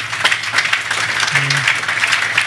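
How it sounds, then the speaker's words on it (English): An audience at a Birmingham restaurant industry gathering, the Chutney Chat event, gives a round of applause: a dense, fairly loud burst of many hands clapping together for a couple of seconds, with voices mingling in. "I think that deserves a round of applause"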